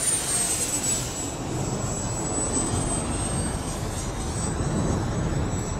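A Freewing Vulcan RC model jet passes overhead with its gear down on approach to landing, a steady loud ducted-fan roar with a high whine holding for several seconds with no talk.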